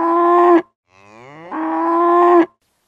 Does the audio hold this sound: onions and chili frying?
no